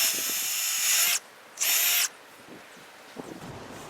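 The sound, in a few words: power drill pre-drilling wood for trellis screws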